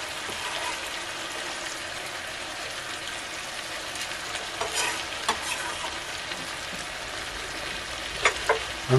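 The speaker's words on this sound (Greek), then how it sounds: "Ανακατεύουμε." Meat and parsley stirred in a frying pan, a steady broadband sizzle with scraping spoon strokes growing sharper and louder toward the end, no voices.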